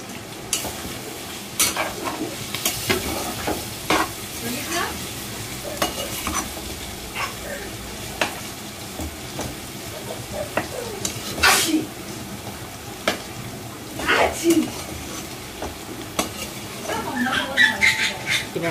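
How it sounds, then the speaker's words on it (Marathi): Potatoes and green chilies are sautéed in a pan with a low sizzle, while a spatula scrapes and taps repeatedly against the metal. A voice talks at times and a dog whimpers faintly in the background. "इकडे आता परतवून घेतली बटाटा आणि हिरवी मिरची छान अशी परतवून घेतली"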